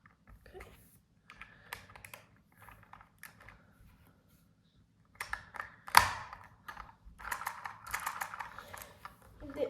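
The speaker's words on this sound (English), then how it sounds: "These are weird noises from the tape I put here on the flywheel rubbing on the bottom when it spins" Tape stuck on the spinning flywheel of a Lego vacuum engine rubs against the base, making irregular ticking and scraping bursts, quiet at first and then busier, with a sharp knock partway through and a voice talking now and then.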